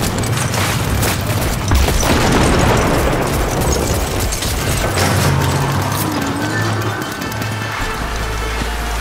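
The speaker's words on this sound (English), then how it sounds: "Hit the ground, it's gonna explode!" A massive, roaring explosion in the Cyberpunk 2077: Phantom Liberty video game, with heavy low rumble and dense blast noise filling the whole stretch before thinning slightly toward the end.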